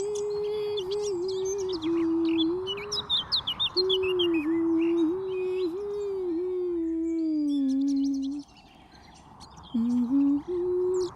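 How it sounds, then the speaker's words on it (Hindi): A koel-like bird sings in a forest: a sustained wavering call with bright chirps and whistles layered above, pausing briefly before resuming, loud and close. "आहा, कितना सुंदर आवाज, कोयल जैसी लग रही है पूरा।"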